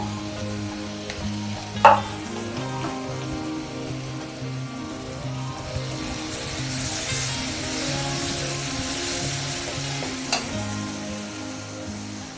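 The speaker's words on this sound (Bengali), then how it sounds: "মশলাগুলো সুন্দর করে ভাজতে হবে" Spices and turmeric powder fry in a pan with a steady, even sizzle and occasional stirring knocks, including a sharp clack near the start, over a low constant hum.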